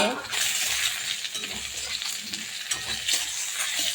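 Fried puti fish stirred into cumin in a hot pan, a continuous sizzle with scraping and clinking of the spatula, close and fairly loud.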